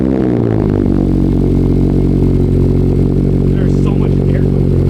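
A Mazda ND Miata fitted with a Tomei Expreme Ti titanium exhaust cranks and fires, its note climbing quickly and then settling into a loud, deep, steady idle, with faint voices in the background near the end.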